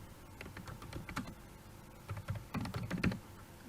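Someone types on a computer keyboard in short bursts of quick, crisp key clicks with a brief pause between groups, close and fairly quiet.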